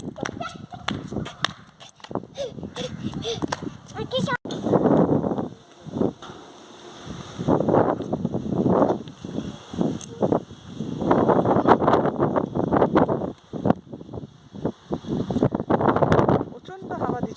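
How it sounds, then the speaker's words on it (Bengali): Strong wind during Cyclone Yaas buffets the microphone in irregular, rumbling gusts that rise and fall throughout, with a voice talking at times. "প্রচণ্ড হাওয়া দিচ্ছে আজকের থেকেই।"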